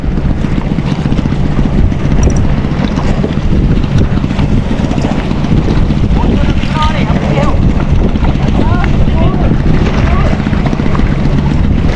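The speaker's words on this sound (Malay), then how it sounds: "Angin kuat, angin kuat." Strong wind of around 9 to 10 knots blowing across open sea from a small boat, a loud, unbroken roar battering the microphone throughout, mixed with engine and water noise, while a voice speaks faintly underneath.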